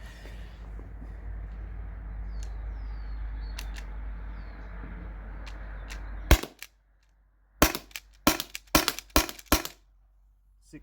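Six shots from a T4E HDP50 CO2 launcher firing steel ball bearings: a background hum cuts off with a sharp crack, then five more sharp cracks follow in quick irregular succession, close and loud, without talk.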